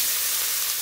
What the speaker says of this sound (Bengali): ওই তেলেই আমি পেঁয়াজ কুচি দিয়ে দিচ্ছি